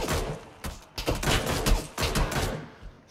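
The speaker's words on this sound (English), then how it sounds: "Someone's fucking shooting!" Rapid bursts of video game gunfire in a multiplayer shooter, several sharp volleys of shots in quick succession with brief gaps between them, close and loud.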